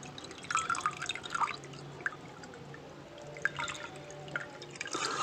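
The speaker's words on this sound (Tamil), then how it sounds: "கண்டினியூஸாக தண்ணி வந்துகிட்டே இருக்கும்." Water runs continuously from a water can through a pipe, heard as steady trickling with bright irregular drips and splashes, moderately close with no talk.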